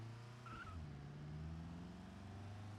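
A car in BeamNG Drive, steered with a Cammus C5 force-feedback wheel, pulls away with a steady low engine drone and rising tone, a brief higher squeal near the start.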